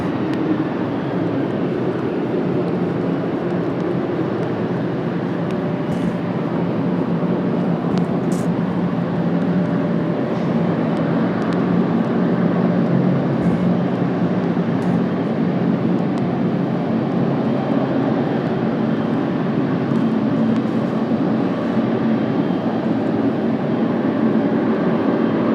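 The GE90 engines of a Korean Boeing 777-300ER spool up at Washington Dulles, giving a sustained, dense jet roar that swells slightly over about half a minute under a cloudy sky, with no talk.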